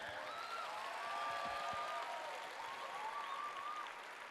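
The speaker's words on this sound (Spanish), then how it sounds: "Denles un aplauso a ellos" Steady audience applause at a church conference, a broad wash of clapping heard at moderate distance with faint voice-like tones drifting over it.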